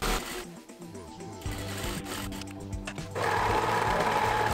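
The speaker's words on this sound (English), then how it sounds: "and then I'm going to overlock the edge" An overlocker serging the edge of fabric for wide leg pleated pants, a close mechanical whirring with rhythmic stitching pulses that speeds up and grows louder near the end.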